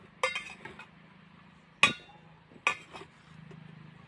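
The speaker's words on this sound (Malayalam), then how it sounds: "ഇനി നമുക്ക് ഇളക്കി കൊടുക്കാം" A spoon stirs a Kerala-style salad in a bowl, giving three sharp, faint clinks against the dish, spaced apart over a low background hum.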